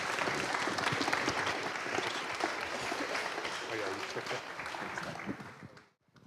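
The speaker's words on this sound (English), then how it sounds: "Can we give Phil one more round of applause" Warm audience applause fills an indoor talk venue after a presentation on running DevOps teams, a dense, steady wash of many hands clapping that holds evenly for several seconds and then stops abruptly.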